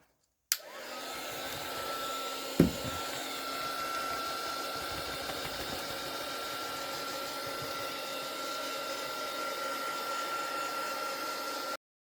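A handheld heat drying tool blows over a mixed media tag, a steady loud whirring drone that starts abruptly, runs evenly with one brief click near the start, then cuts off.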